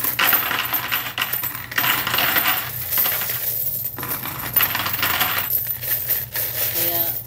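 Coins drop into a savings container, making a run of clinking, jingling bursts that repeat over several seconds, close and fairly loud, with no talking.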